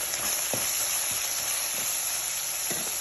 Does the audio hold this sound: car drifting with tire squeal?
no